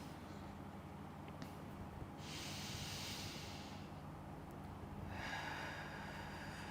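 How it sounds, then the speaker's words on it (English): Two long, deep breaths in a guided meditation, each a soft airy rush close by, separated by a quiet pause with a faint low background hum. "So take some deep breaths along with me."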